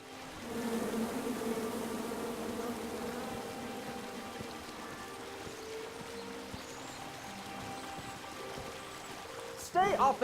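A swarm of bees buzzes steadily in the King's Quest video game, a constant mid-level hum under speech and ambient game sounds, ending with a brief louder sound.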